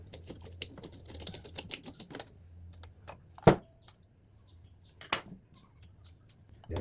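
Small screws being unscrewed from a Wi-Fi card inside a Dell Vostro 3671 desktop, quiet close ticking and clicking of a screwdriver with a few sharper metallic clicks, no talking.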